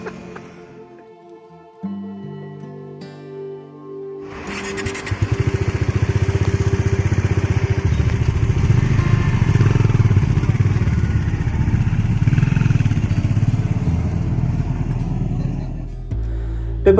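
Motorcycles ride along highways from Pune toward Tarkarli via Kolhapur. After a brief tonal passage, a loud, steady engine drone with wind rush rises and carries on close to the listener.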